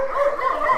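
A dog guarding a bone in Kümbet, Giresun, Turkey lets out a brief, close, high-pitched yelping bark, whiny and tense.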